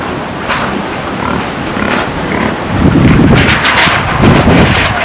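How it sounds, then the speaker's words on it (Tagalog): Strong wind from Typhoon Tino, under Signal No. 4, on Canipo island roars continuously as loud, rough buffeting against the microphone, with surging gusts that grow heavier toward the end. "Sobrang lakas ng hangin."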